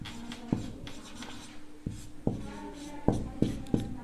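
Chalk scratches across a classroom board as geometry working for a Class 10 triangles lesson is written out, short scraping strokes with firm taps between them, close and with no talk.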